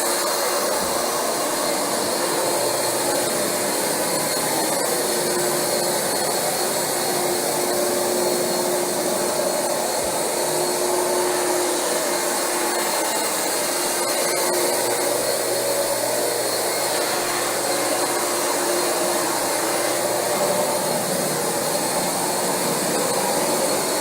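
A Rug Doctor carpet cleaning machine runs on carpet with a loud, unbroken motor roar and suction hiss that holds steady from start to finish, with no talking over it.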